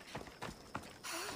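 Hooves of a horse in the video game Assassin's Creed Odyssey, a few distinct clip-clop beats in quick succession, close and moderately loud, heard alone.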